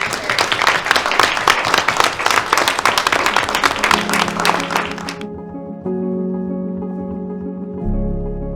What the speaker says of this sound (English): Can I say maybe just one more round of applause for all of our presenters?